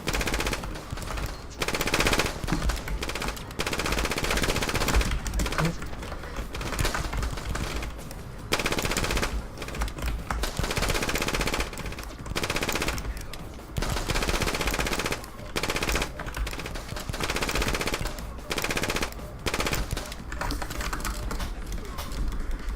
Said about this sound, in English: there's a lot of shots being fired right now